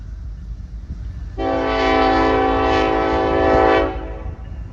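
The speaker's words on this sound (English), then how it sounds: "Oh, this is the part of the town they have to use whistles." A short freight train sounds a long, loud, steady horn blast in a small town valley for a few seconds, standing out over low rumbling background noise, with no talk.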